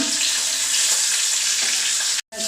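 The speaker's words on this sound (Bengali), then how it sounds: "কাঁচা লঙ্কা ফোড়ন দিলাম সাদা জিরে কালো জিরে ফোড়ন দিলাম তেজপাতা ফোড়ন দিলাম" Green chili, white and black cumin and bay leaf tempering in hot oil for a rohu fish curry with cauliflower, a loud dense spattering sizzle right up close that cuts off abruptly near the end.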